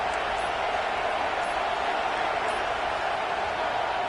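Dense, roaring stadium crowd in the NCAA 26 college football video game, a loud continuous wash of cheering with no breaks.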